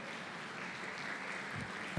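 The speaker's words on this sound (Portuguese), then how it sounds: "Dê uma salva de palmas ao Senhor, glorifica Ele." Congregation clapping in praise during a church family worship service, a steady dense patter of many hands that holds at an even level throughout, with no voices on top.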